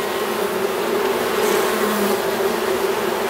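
Black honey bee colony opened during a hive inspection, giving a steady, dense buzz that stays close and even for the whole stretch.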